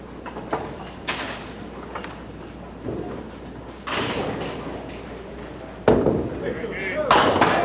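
Duckpin bowling balls roll and crash into pins at a 1987 DPBA Town Hall match, with several sharp clattering impacts and rumbles spread across the stretch, heard amid arena ambience and commentary.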